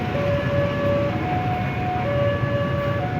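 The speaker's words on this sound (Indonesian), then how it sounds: "Wah, ada kereta yang sedang berjalan." The Argo Cirebon train passes a railway level crossing in Cirebon, steady sustained warning tones ringing out over a continuous rolling rumble of rail cars at moderate distance.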